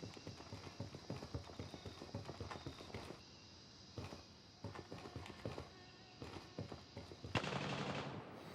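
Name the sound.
gunfire from the video game Gray Zone Warfare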